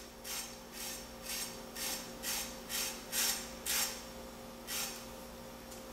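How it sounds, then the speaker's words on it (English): A knife rasps across the skin of hot boiled pork belly in about nine steady, evenly spaced strokes. The scraping is close and clear, with no talking. "I'm going to take and I'm going to scrape it, see if I can get anything off of there"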